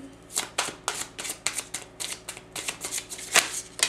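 Playing cards being shuffled and drawn, a quick run of crisp riffling flicks and snaps repeating in a close, fairly even rhythm, with no talking.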